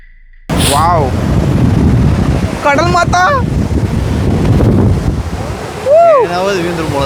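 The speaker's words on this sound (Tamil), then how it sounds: "வாவ் கடல் மாதா." Sea waves wash onto a beach under strong microphone wind noise, a steady rushing roar throughout, while a person speaks excitedly over it in a few short bursts.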